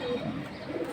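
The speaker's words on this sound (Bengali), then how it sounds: "এটা সিলভার কবুতর। সিলভার প্যাটার্নের একটা জোড়া।" A pair of silver-pattern pigeons gives a short, soft, low coo, close by and heard alone.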